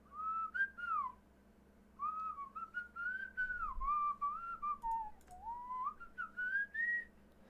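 A person whistles a wandering melody alone, clear and fairly close, in phrases separated by short breaths.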